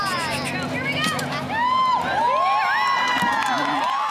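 A rodeo crowd cheers loudly, with children shouting and whooping over a constant babble of voices and whistle-like high cries rising and falling.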